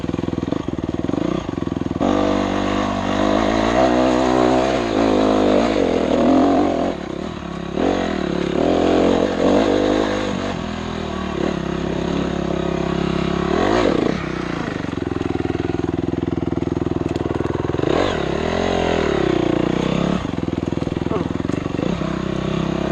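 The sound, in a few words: dirt bike engine running and revving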